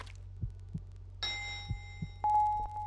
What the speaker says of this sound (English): Sounds like an elevator bell.